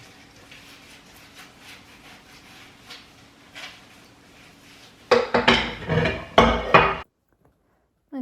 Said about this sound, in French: je vais faire la vaisselle parce que il faut bien le faire